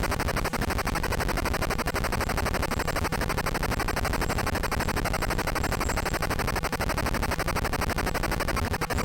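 Strafing gunfire in the Super Cobra video game forms a continuous, buzzy stream of rapid electronic shots. The harsh retro chiptune rattle stays steady and loud throughout, with no pauses.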